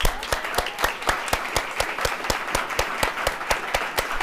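An audience at a state poetry recitation final claps steadily, a dense, continuous round of applause in a hall with a few sharper claps standing out near the front.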